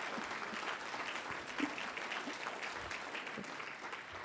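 Distant, fairly faint applause with scattered cheers rises from an audience at a ministry celebration, an even patter of many hands lasting throughout.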